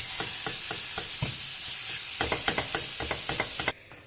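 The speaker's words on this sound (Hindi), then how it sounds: "इसमें इसको थोड़ा सा पकाएंगे, सारा मिक्स कर दूंगी मैं, ताकि मसाला सारा इसमें आ जाए।" Mashed potatoes mixed with spices are stirred in a pan, a spatula scraping in quick repeated strokes over a steady sizzle before the sound cuts off abruptly near the end.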